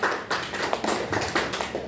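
A short burst of applause from a group, dense overlapping claps at moderate loudness with no talking.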